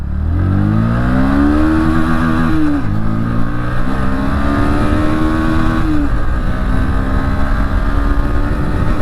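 A 2025 Bajaj Pulsar NS 125 with its 124cc air-cooled engine pulls away in first gear, the loud close engine note rising steadily in pitch, dipping briefly twice as revs shift, then climbing again.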